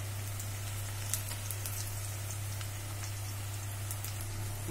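Ginger garlic paste frying in a pan for a paneer and potato curry, a steady soft sizzle with scattered crackling pops running evenly throughout, with a low constant hum underneath and no talking.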